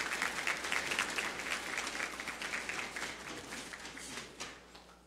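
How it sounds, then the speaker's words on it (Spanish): Audience applause at a regional final award ceremony in Los Santos province, Panama, a moderately faint crowd clapping with individual claps audible, tapering slightly toward the end. "Aplausos."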